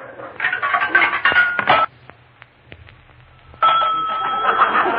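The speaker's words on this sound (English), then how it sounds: "A payphone in a private house." A coin dropping and a dial being worked on an old payphone installed in a private house, heard as clicks and a short rattling burst, then a brief quiet and a steady ringing or dial tone.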